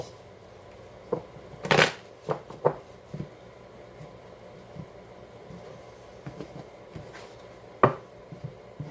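Oracle cards being shuffled by hand, a series of irregular close riffling and snapping bursts with one longer flurry early on and quieter pauses between, no voices.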